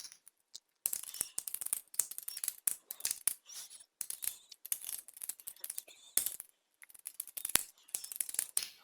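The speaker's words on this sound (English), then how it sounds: "So I'm just going to type all that information into this form." Typing on a computer keyboard while filling in a form, with quick irregular clicking keystrokes in bursts and short pauses, close but quiet.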